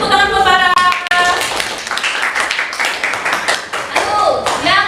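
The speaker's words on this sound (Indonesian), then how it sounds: "Beri tepuk tangan buat para." A classroom of students claps their hands together in a quick, dense burst, with voices talking and calling out over the clapping throughout.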